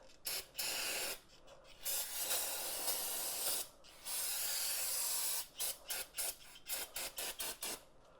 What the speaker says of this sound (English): I'm just going to spray it down with some brake clean